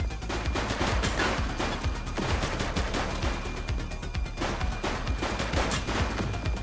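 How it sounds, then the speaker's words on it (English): Dense, continuous gunfire from the police game The Precinct, with rapid overlapping shots and bursts sounding close and loud throughout, and no talking. "She's shooting!"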